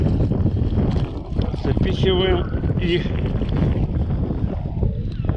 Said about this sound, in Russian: резко ветер поднялся. Блин, волна пошла.